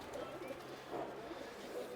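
A pigeon coos softly in repeated low, throaty calls over a faint, steady background hum.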